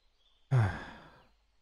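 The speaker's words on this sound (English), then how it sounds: "Sorry for the yawning" A single long breathy exhalation from a man, like a deep yawn or sigh, rising suddenly and fading out over about a second, close and alone in a quiet room.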